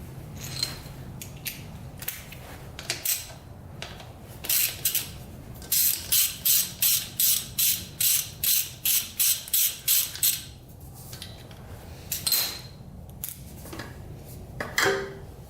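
A ratchet works loose a fastener on the exhaust pipe of a vintage Honda CR80 motorcycle, giving a close, steady series of about a dozen evenly spaced clicking strokes amid scattered tool clatter, no talk.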